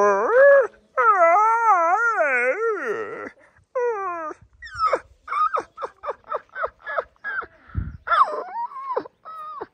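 A dog howls in long wavering, rising and falling wails, then breaks into a quick series of short yelping barks and whimpers, loud and close, with no talking over it.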